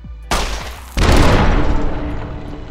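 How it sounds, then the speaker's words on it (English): Gunfire and explosions in the video game Fallout: New Vegas: a sudden loud blast followed by a second heavier burst, then sustained dense shooting and rumbling combat noise. "I get blown up or shot over and over again."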